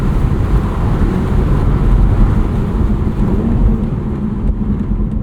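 A 2025 BMW Z4 M40i with a six-speed manual driving in Sport Plus mode, a steady low engine rumble mixed with road and wind noise, fairly loud and continuous with no talking.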